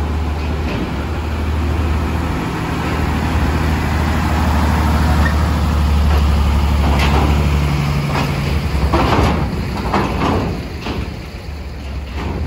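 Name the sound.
trailer trucks at Merak port boarding a ship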